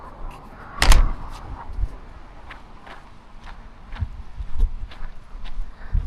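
A car door shuts once with a solid, close thump, followed by quieter shuffling and a few soft footstep-like knocks.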